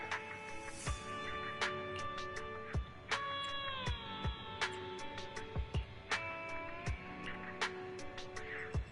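A little black cat in the Zenless Zone Zero game meows repeatedly, clear close mews in quick succession over a layer of game music and chimes.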